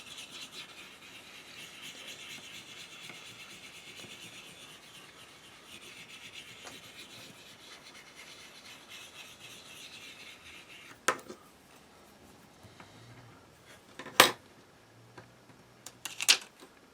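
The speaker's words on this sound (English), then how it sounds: "I'm going to try to burnish it a little bit." An old spoon burnishes the back of an image transfer with soft, continuous rubbing strokes that stay faint and close, followed by a few sharper scraping taps toward the end.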